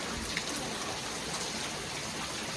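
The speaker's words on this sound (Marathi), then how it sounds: "सकाळपासूनच जोर केला पावसाने" Heavy monsoon rain pours down steadily in the Konkan countryside, a dense, even hiss of drops drumming on surfaces close by, with no talking.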